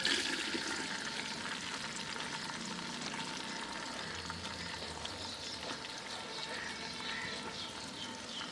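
Onions frying in hot oil in a cooking pot for aloo pulao, a steady close crackling sizzle throughout with no talking.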